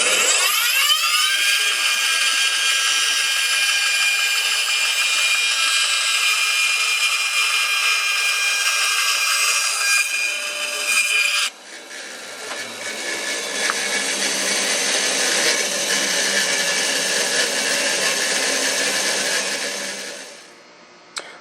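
A high-speed power tool whines steadily while cutting a large square piece off ash wood for a cigar pen, close and loud, changing pitch partway through before spinning down at the end.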